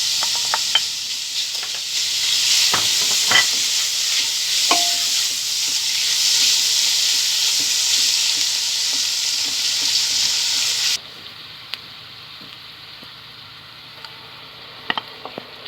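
Butter sizzles loudly in a pan with sautéed carrots for an oven-baked spinach dish, a steady bright crackle with scattered clicks of stirring, then dropping sharply to a quieter simmer partway through.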